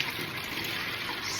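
Hot water pours steadily into a container for donut dough in a shop kitchen, a continuous rushing splash with no breaks, close and moderately loud.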